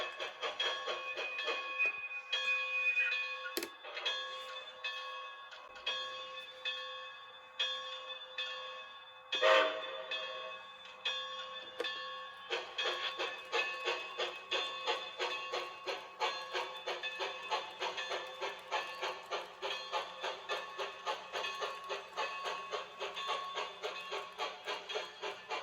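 HO scale Bachmann Spectrum 2-10-2 USRA Light Santa Fe model steam locomotive pulling box cars, with sound-effect chuffing in a steady rapid rhythm, a short whistle blast and a brief hiss before the chuffs pick up and run continuously.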